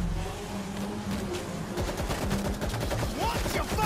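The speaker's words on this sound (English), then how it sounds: "I just shot this guy in the face." Rapid gunfire in the zombie shooter World War Z builds into a dense, loud automatic barrage over a rumbling game soundscape in the second half.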